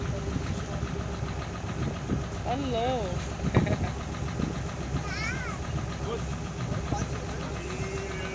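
A boat's engine runs steadily at sea off Alexandria with a low, continuous mid-pitched drone, while people talk and call out over it nearby.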